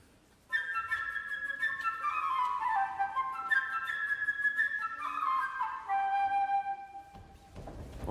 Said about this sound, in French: pour l'oiseau, qui est le grand ami de Pierre, ce sera la flûte légère et gazouillante